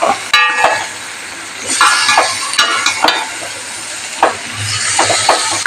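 Chicken perattu gravy is stirred and cooked in a pan: a spoon scrapes and clanks against the metal, with soft sizzling and bursts of frying hiss between the close, irregular strokes.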